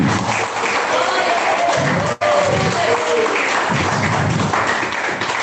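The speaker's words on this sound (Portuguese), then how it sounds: "As palmas que exaltam a Jesus." A church congregation claps steadily in praise during an evangelical service, a dense continuous patter of many hands filling the room with a faint murmur of voices beneath.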